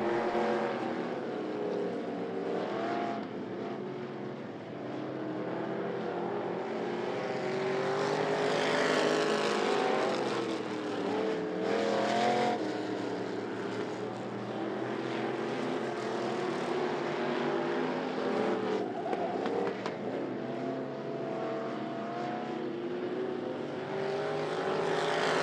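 Race cars circling an oval at I-75 Raceway in a Thunder event, a continuous loud engine roar rising and falling as cars pass, with no talk.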